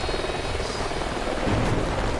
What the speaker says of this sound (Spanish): Vale, hay un helicóptero por delante. Ya lo oigo.